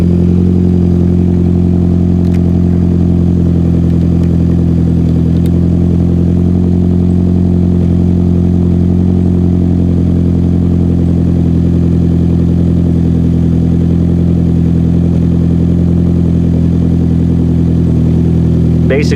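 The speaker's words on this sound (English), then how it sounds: "the motor has not been warmed up at all, and it's a nice deep smooth tone that we get out of this" A Mitsubishi Lancer Ralliart with a DC Sports single exit exhaust idles cold, an unbroken loud, deep, smooth hum recorded close to the tailpipe throughout.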